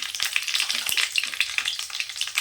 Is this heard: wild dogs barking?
no